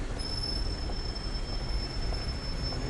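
A tram rolls past on a street in Podil, Kyiv, Ukraine, with a steady low rumble and a thin, sustained high wheel squeal running throughout, fairly loud and close.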